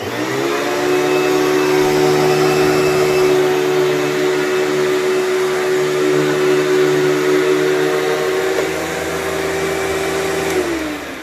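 A Panasonic Platinum vacuum cleaner runs over a rug, a loud steady motor whine with a sustained drone that holds nearly unchanged and dips slightly toward the end.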